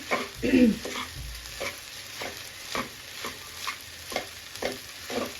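Spoons scrape and clack against a hot pan while noodles are tossed and mixed, a soft sizzle underneath and a regular series of short stirring strokes, with one louder scrape near the start.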